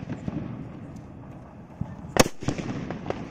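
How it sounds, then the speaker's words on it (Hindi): A Hydro brand sutli bomb firecracker is lit and goes off outdoors, with a sharp loud bang after a stretch of crackling and background noise, followed by fainter pops. "हाइड्रो वाले सुतली बम को जला के देखते हैं सुतली बम कैसा जलता"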